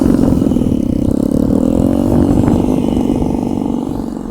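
Small-displacement drag moped engine revving hard on a test run, a loud, buzzy, continuous two-stroke-style drone with rising and wavering pitch, close to the listener.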